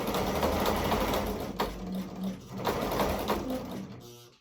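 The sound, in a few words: sewing machine sewing fabric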